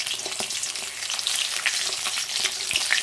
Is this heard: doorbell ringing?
no